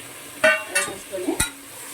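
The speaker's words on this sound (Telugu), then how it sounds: "బాగా ఫ్రై అవ్వాలి" Chicken frying in a pan and being stirred, giving a few quick scraping strokes over a low sizzle, close by, with a brief murmur of voice.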